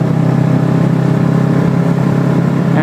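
An engine fitted with an aftermarket DanMoto exhaust revs loudly and close, holding a continuous, throaty drone for the whole stretch.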